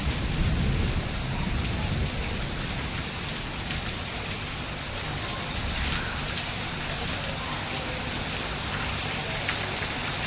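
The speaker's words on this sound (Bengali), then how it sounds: "এ হচ্ছে বৃষ্টির সাউন্ড" Heavy rain pours down in Chennai, a dense, steady hiss of drops striking surfaces that stays loud and even throughout, with faint low rumbling and no talk.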